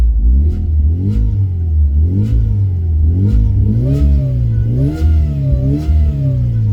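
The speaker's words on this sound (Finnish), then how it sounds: "mennään kuuntelemaan seuraavaksi vähän ääniä, niin pakoääniä, taaempaa vähän autoa, niin että miltä se kuulostaa" A supercharged Fiat Punto HGT is revved repeatedly from behind the car, its exhaust rising and falling in about six loud, rhythmic swells over a low idle.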